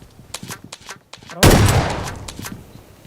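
Video game gunfire, shotgun and rifle, in a multiplayer shooter: a string of sharp, quick shots rings out, then a heavy blast at about the midpoint fades over the last half.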